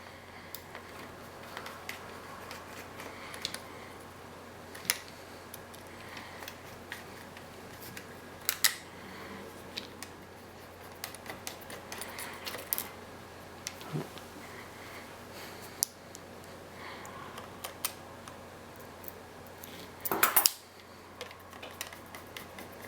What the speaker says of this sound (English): We need to remove them, keeping in mind that the screws are different sizes